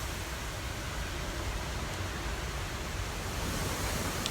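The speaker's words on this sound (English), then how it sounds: "See if we can get a good look at the winds kicking through" Strong Hurricane Irma winds roaring steadily outdoors, a dense broadband rush with no clear gusts or breaks, moderately loud and unbroken, with no talk.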